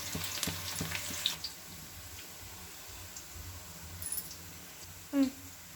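Chicken frying in a pan with browned onions and curry leaves gives a faint, steady sizzle, with a few light clicks and a brief louder clatter near the end.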